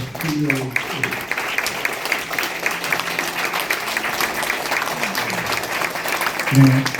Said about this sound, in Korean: 잠깐 일어나 주시고 우리 뜨거운 박수로